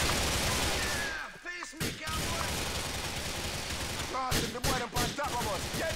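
Gunfire in the video game Grand Theft Auto IV: sustained rattling shots under a busy mix, with a few sharp, loud bursts standing out, while a person talks intermittently over it.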